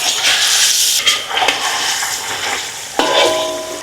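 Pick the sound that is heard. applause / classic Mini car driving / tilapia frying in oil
tilapia frying in oil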